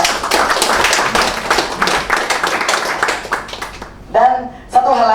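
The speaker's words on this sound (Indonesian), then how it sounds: "Boleh kasih tepuk tangan ya." An audience at a Batak artists' association gathering bursts into dense, sustained hand clapping for about four seconds, then the applause dies away and a voice starts speaking.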